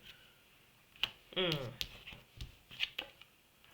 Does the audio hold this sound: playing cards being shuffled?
yes